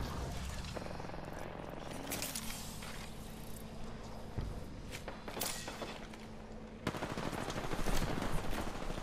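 Gunfire in the battle royale game Apex Legends: repeated bursts of automatic weapon fire mixed with single shots, footsteps and thuds, fairly loud and continuous over a dense game soundscape.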